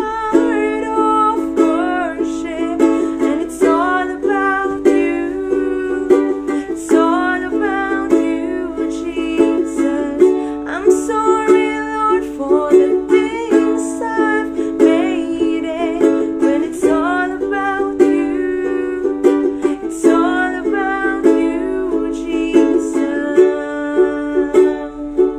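A ukulele strums the chorus chords of a worship song in a steady, continuous rhythmic pattern, bright and close, played alone for about twenty-five seconds without talk.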